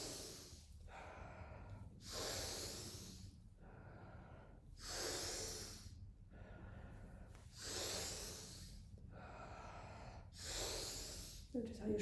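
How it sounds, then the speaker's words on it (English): Deep rhythmic Tummo breathing, with long forceful inhales and sharp, rushing exhales repeating in a steady cycle close up, and a brief scuffle at the very end. "Notice how your shoulders move as you're breathing all the way in."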